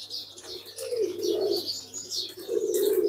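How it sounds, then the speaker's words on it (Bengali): Pigeons coo on a morning rooftop garden, giving repeated low throaty coos in close succession mixed with higher chirps, near and clear with no talking. "কবুতরের হাঁক ডাক"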